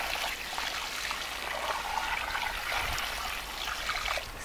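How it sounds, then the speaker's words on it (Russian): Liquid organic fertilizer pours steadily onto garden soil at a raspberry planting, a continuous close splashing trickle that keeps going without a break and ends abruptly. "Заливаем органическим удобрением."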